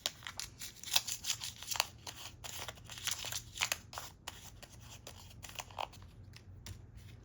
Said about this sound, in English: Just crinkle it and uncrinkle it a little so it has that kind of wax paper texture